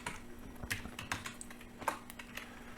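Numbers being typed on a computer keyboard during a Python programming lesson, with a handful of quick close key clicks spread unevenly across a few seconds over a faint steady hum.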